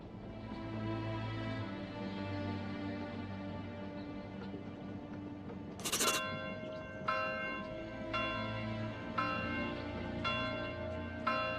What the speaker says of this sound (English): Love the sound of that bell.